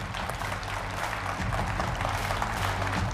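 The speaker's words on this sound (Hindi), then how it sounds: "तालियों के साथ स्वागत कीजिए" Studio audience at a televised Hindi news debate applauds to welcome panel guests, a continuous dense clapping throughout, with a low hum or music underneath.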